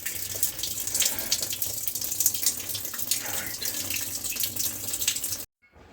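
Water runs steadily from a tap during a cast iron house trap replacement, a continuous hissing splash that cuts off abruptly near the end.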